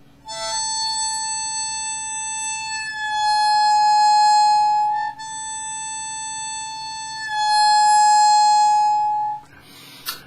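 A harmonica's hole 7 overbend is blown as a sustained, bright reedy tone with strong harmonics. It holds steady in two long swells separated by a brief break, then cuts off.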